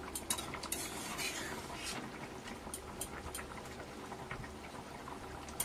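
A pot of fish curry is handled on the stove, with faint clinks of metal utensils and pot against a soft bubbling, sizzling background, quiet and close.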